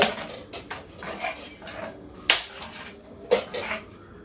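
A metal spoon stirs coconut fish curry with mango and curry leaves in a pot, giving a few soft scrapes and two sharper clinks against the pot, close by, with no talking.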